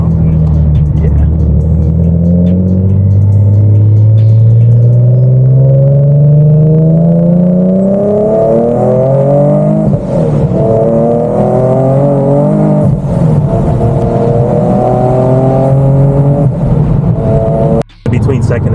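Nissan GT-R R35 accelerating hard with traction control off, engine note climbing steadily through the gears, loud and close, with a brief shift dip near the end and people talking over it.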